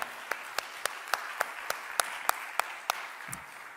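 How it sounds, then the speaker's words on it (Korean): Members of a church youth congregation clap in slow, even unison, about a dozen distinct claps spaced evenly apart over a quiet room, ending with a soft low thump. "우리 하나님께 영광의 박수를 한번 올려드리도록 하겠습니다"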